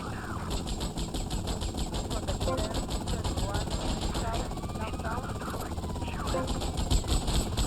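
A helicopter in GTA Vice City hovers with a continuous rotor chop and engine drone, steady and fairly loud beneath bursts of game noise and a talking voice.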